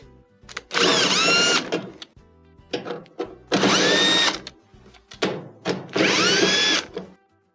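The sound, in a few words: power drill removing screws from Whirlpool dryer back panel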